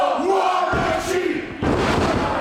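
A wrestling crowd at Festsaal Kreuzberg in Berlin roars with split support, mixing shouts and cheers with the thud of a body hitting the mat. The noise is loud and close, and it swells again near the end.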